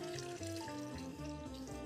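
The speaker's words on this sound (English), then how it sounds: "So I'm going to be adding a little bit of my water now." Water from a kettle poured into a container while making blackberry wine, a brief, faint trickling splash heard close up with no talking.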